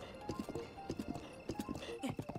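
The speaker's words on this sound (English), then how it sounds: "Come on, horsey." Horse galloping in The Legend of Zelda: Breath of the Wild, with rapid rhythmic hoofbeat clip-clops in repeating bursts, quiet and close, alongside faint game sounds.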